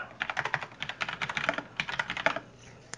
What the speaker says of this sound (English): A lot of programming is just busy work like this, just typing in endless streams of properties